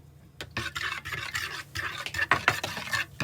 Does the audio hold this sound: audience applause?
no